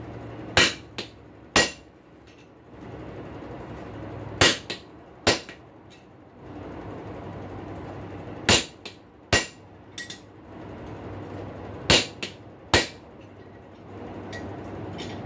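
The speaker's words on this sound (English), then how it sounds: "My chisel is softer than my anvil, so I haven't made any cut marks on my anvil yet using one." Steel chisel struck with a hammer against an anvil to split a rail spike: loud, sharp metallic blows in spaced pairs and groups, ringing briefly with quiet pauses between.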